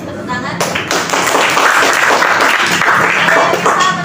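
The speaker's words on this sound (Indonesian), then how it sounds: "Oke, bagus, tepuk tangan." A classroom of students claps steadily together, dense and loud throughout, with a few voices mixed in beneath the applause.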